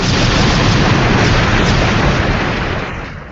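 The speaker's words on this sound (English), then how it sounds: "you get the full explosion" A loud, continuous explosion roars as a dense, broad rumble that holds steady for about three seconds before beginning to fade, with no voices over it.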